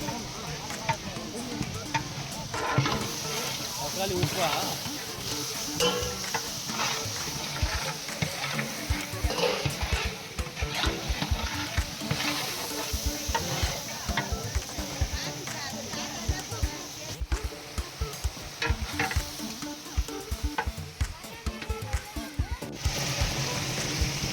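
Tomatoes for a biryani fry in a large pot with a steady sizzle, and a spoon scrapes and stirs them rhythmically throughout while people talk nearby.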